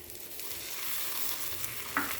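Masala akki rotti, a spiced rice-flour flatbread, sizzles steadily in oil on a hot pan, a continuous close frying hiss with a small sharper crackle near the end.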